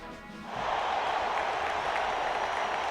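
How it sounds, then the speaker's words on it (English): A large crowd in the video game Code: Realize swells into a thunderous, sustained cheer and roar after a short quiet start, loud and continuous with no distinct voices. "A thunderous cheer erupts once Victoria's speech has ended."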